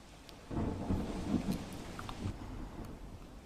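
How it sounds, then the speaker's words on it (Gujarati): Heavy rain pours down in Devbhumi Dwarka district, heard as a dense, steady wash of noise with low rumbling that swells after the first half second and stays fairly loud throughout, with no voices. "આ મુશળધાર વરસાદ છે વહેલી સવારથી દેવભૂમિ દ્વારકા જિલ્લામાં વરસી રહ્યો છે"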